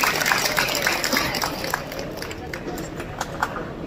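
An audience at a bodybuilding championship in Assam claps steadily, with dense hand claps and sharp individual slaps over a murmur of crowd voices.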